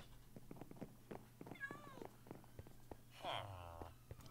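A cat in the video game Minecraft meows twice, short rising-falling calls a couple of seconds apart, faint and under background game sounds and light clicking.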